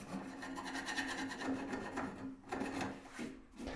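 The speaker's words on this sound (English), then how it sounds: "next I'm just going to rough it up with a file to give it some texture" A hand file rasps across a cracked cast iron woodstove to roughen its surface, repeated back-and-forth scraping strokes in a steady rhythm, close and fairly loud with no talk.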